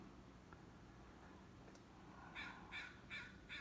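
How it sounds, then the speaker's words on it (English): Crows caw in a rhythmic series of five or six calls, fairly distant, over quiet outdoor ambience. "Crows are up."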